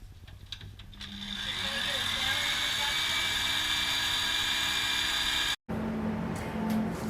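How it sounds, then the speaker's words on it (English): A close, steady electric hand mixer whips homemade hand and body butter in a bowl, a continuous mechanical whir with a brief cut near the end before it resumes. "now it's been thoroughly whipped for, depending on how much it's set up for you, 1 to 2 minutes"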